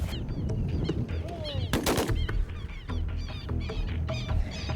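A loud shotgun blast during perdiz hunting in Argentinian grassland, a single sharp crack amid constant noisy honking and calling of birds, heard close in a busy outdoor setting.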